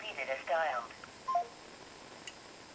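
A cell phone call is cancelled, giving a short run of electronic ending tones near the start, a couple of brief beeps, then quiet room noise.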